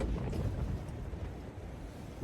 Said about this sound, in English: It was a small gust.